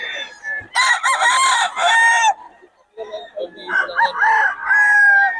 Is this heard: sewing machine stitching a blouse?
no